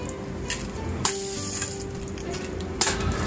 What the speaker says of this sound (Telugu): ఇప్పుడు ఆయిల్ కొంచెం హీట్ ఎక్కాక వీటిని మనం ఇందులో వేసుకొని కొంచెం వేపుకోవాలి